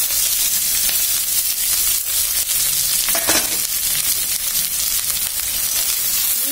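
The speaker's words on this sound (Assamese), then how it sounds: "পিঁয়াজ ভাজা হৈ গ'ল ভালকৈ" Onions frying in hot oil with whole cumin seeds, a loud steady close-up sizzle and crackle with a brief stir partway through, no voices.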